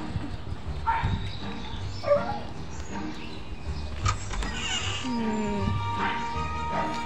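A dog barks a few times at moderate distance amid talking and steady background noise.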